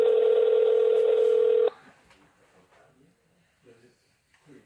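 A loud, steady telephone tone of a call being placed to a taqueria plays alone for under two seconds, then cuts off, leaving faint room noise and quiet voices.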